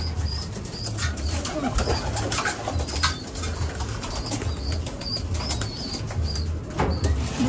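Wings flap and flutter as a flock of pigeons stirs and takes off, with low cooing throbbing steadily beneath the commotion.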